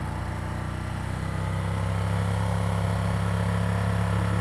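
A 2015 Ducati Monster 1200 V-twin engine drones steadily while riding, a loud sustained low rumble with strong tonal hum and wind rush that holds constant throughout.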